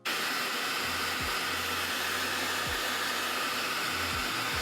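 A hair dryer blows steadily at close range while drying the back of a man's hair for a slicked-back style, a loud continuous whoosh with a few brief low pitch sweeps as the airflow shifts.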